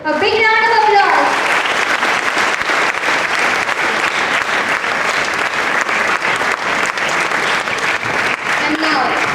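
An audience applauds a student ranked at a results ceremony, steady loud clapping filling the room throughout; a brief harmonic voice or cheer rises at the start and a faint voice surfaces near the end.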